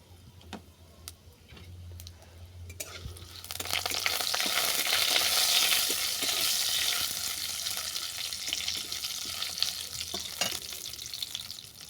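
Panch phoron, dried chili, bay leaf and a pinch of asafoetida hit hot oil, and a quiet start swells after a few seconds into a bright, crackling sizzle that holds steady with scattered sharp pops and ticks.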